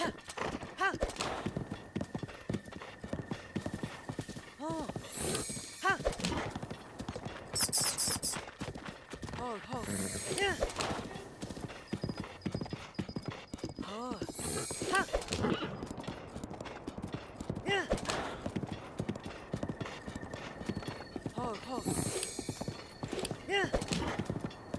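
Horse hooves clip-clop at a gallop in The Legend of Zelda: Breath of the Wild on Nintendo Switch 2, a steady rhythmic pounding over game music and effects, with talking running throughout.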